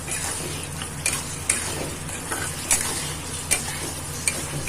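Potatoes and small mourala fish for chachchari are stirred in a sizzling pan. A steady fry hiss continues throughout, and a utensil scrapes and taps against the pan every second or so.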